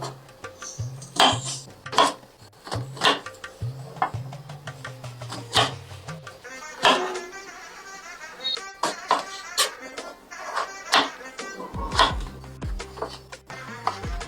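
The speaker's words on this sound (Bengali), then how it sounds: "এখন আলু করলা আর বেগুনও কেটে নেব" A knife cuts potato, bitter gourd and eggplant in a home kitchen: a series of sharp, close chops and scrapes against a board, irregularly spaced, with faint handling noises between strokes.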